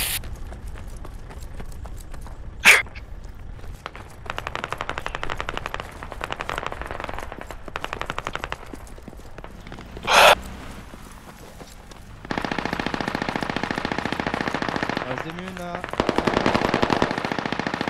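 Machine gun fire in the tactical shooter game Squad, with bursts of automatic gunfire and a couple of sharp nearby shots over a steady battlefield din, louder rattling bursts toward the end.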